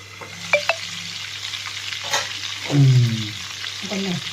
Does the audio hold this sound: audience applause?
no